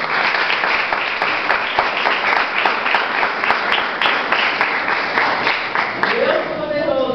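Congregation in an evangelical Pentecostal church clapping together in a steady, loud rhythmic beat, with voices mixed in over the claps.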